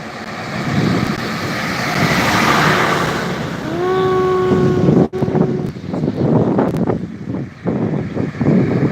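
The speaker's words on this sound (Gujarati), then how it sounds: "પવન નકરો અવાજ હજુ વરસાદ ચાલુ થતો નથી એવું લાગે છે" Strong pre-rain wind roars and gusts loudly against the microphone throughout in Vallabhipur, Gujarat, with a brief tonal whine midway and sharp buffeting bursts later.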